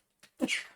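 Somebody sneezes during a wrestling podcast, a short intake followed by a sharper, breathy burst, close to the microphone and alone without talk.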